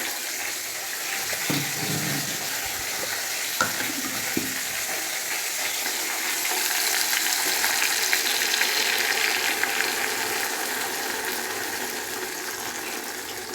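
Hilsa fish with salted mustard paste and chilli sizzling in hot oil in a pan, a steady close crackling fry that swells louder midway, with a few soft clinks of utensils.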